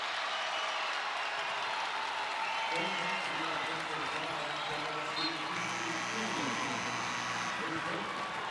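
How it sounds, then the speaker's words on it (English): Crowd at an Indiana vs USC women's college basketball game: a constant, loud arena roar of cheering and applause, with a voice faintly audible partway through. "Crowd loving this effort"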